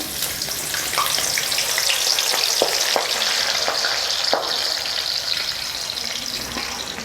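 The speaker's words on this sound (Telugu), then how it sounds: "బాగా బాగా ఫ్రై చేసుకోవాలి, బ్రౌన్ కలర్ వచ్చే వరకు కలుపుతా ఫ్రై చేసుకోవాలి." Broad beans frying in oil for a Nellore-style pickle give a loud, constant sizzle with occasional stirring taps from close by.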